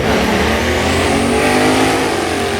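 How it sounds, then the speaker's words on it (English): A Chevrolet Sierra diesel drag truck bumps into stage at the starting line of a drag-racing event, its engine a loud, steady, close rumble with no pause across the whole stretch. "And Dante Delaney getting set for the full pull over here in the Sierra, the diesel machine bumping it"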